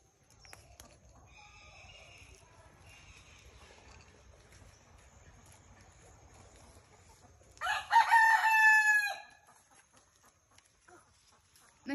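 A rooster crows once, loud and close, in a small home garden during seed planting. A long rising call breaks a quiet stretch of low background hum.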